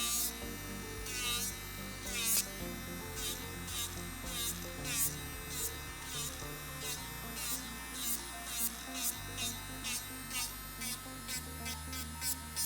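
An electric nail drill whirs while removing gel polish from fingernails, a steady high buzzing with shifting pitch under background music, no talking heard.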